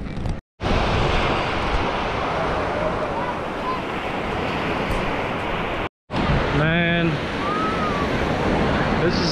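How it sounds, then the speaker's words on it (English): Ocean waves roll onto a San Francisco beach in a steady roaring wash, with wind buffeting the microphone, two brief dropouts and a short whistling call near the end. "Just being out by the ocean, listening to the waves"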